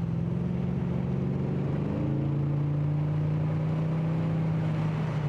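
A C3 Corvette with an LS3 engine and 6-speed automatic accelerating, a steady loud engine drone rising in pitch then settling into a held tone as the gear changes.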